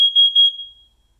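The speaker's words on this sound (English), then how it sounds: "Testing carbon monoxide." Nest Protect 2nd generation smoke and carbon monoxide detector sounding its carbon monoxide alarm test: a short, loud, shrill electronic beep pattern that pulses a few times and then fades quickly into silence.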